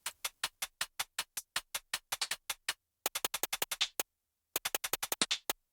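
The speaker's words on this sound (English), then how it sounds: "I'll go alternate between these two different little phrases of hi-hats." Crisp liquid drum and bass hi-hat hits in a fast, steady pattern, alternating between two short phrases separated by brief gaps of silence, close and bright with no other instruments.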